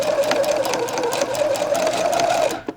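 A sewing machine stitches a thin quarter-inch hem on a shirt, running as a steady, close, whirring buzz for nearly three seconds before stopping abruptly.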